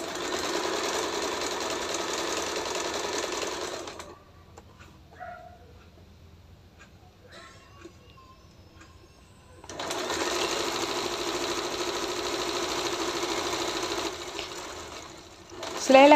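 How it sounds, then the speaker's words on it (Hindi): An electric sewing machine runs in steady whirring stretches while stitching salwar parts, stopping for several seconds in the middle with faint handling noises before starting up again, and a dog yips near the end. "पक्के धागे की आपने यहाँ पर सिलाई लगानी है।"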